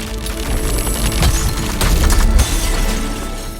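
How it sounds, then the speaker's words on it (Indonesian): A magic glass ball shatters in a loud, sustained crash with scattered breaking debris and a low rumbling underneath. "bola kaca ajaib itu pun pecah setelah mendengar tekad Jack untuk menjadi manusia yang lebih baik"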